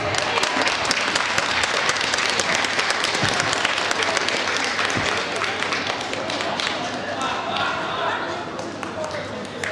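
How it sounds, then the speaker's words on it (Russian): Spectators clap at a dance competition between routines, a sustained, even roar of applause across nearly ten seconds with occasional thuds and a faint voice mixed in, tapering a little toward the end. "Ваши аплодисменты."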